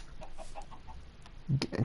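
Chicken clucking in the Minecraft video game on PS4 survival mode, a few soft clucks at a steady pace, then a louder, closer burst of clucking near the end.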